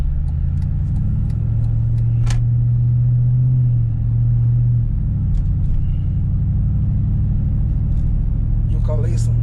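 A Jeep SRT8 fitted with a Gibson cat-back exhaust, heard from inside the cabin as a loud, steady low drone and rumble that swells slightly partway through, with a voice talking over it.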